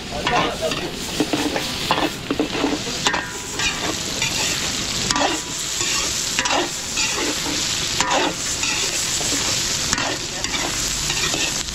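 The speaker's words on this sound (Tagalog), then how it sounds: "piprituhin lang natin bawang sibuyas, tapos ibubuhos na natin dito yung karne" Garlic and onion frying in a pan for a catering job in Porac, Pampanga, with steady close sizzling and repeated stirring scrapes throughout, no talk.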